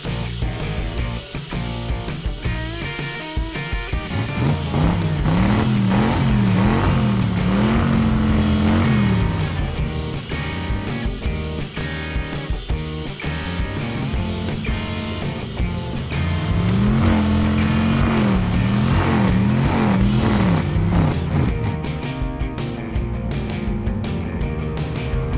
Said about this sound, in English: Our school bus is ready for monster truck racing.